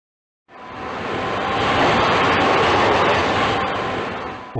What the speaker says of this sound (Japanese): 行き違う電車参ります。